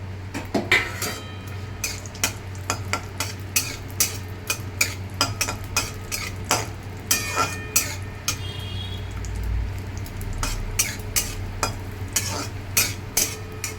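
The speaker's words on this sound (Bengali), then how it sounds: "এবার আমি এর মধ্যে 7-8টা মতো কাজু বাদাম আর কিছু কিশমিশ একটু হালকা করে ভেজে নেব" Cashews and raisins fry lightly in ghee in a kadai while a spoon scrapes and clinks against the metal pan in quick repeated strokes over a soft sizzle, close and without talk.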